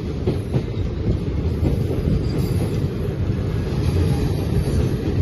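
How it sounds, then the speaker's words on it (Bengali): A train rumbles past close by while a car waits to cross, a continuous heavy roar with rhythmic clatter of wheels on the rails throughout. "ট্রেন যাচ্ছে আর আমরা ক্রস করছি"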